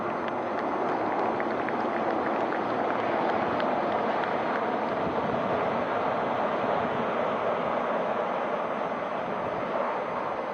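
A formation of navy Sea King 42B helicopters flies past at a Navy Day display in Sindhudurg, a loud, steady roar of rotors and engines that fills the whole stretch without pause.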